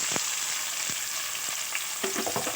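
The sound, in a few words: mustard seeds, cumin and onion frying in oil in a cooker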